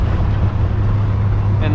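Wind rushing past a moving 500 hp BMW 335i, a steady low roar of air and road noise inside the car, loud and continuous, with a brief voice near the end.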